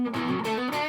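A modded Epiphone Les Paul SL electric guitar on its single-coil pickup rings out distorted chords, loud and sustained, with a couple of chord changes in quick succession.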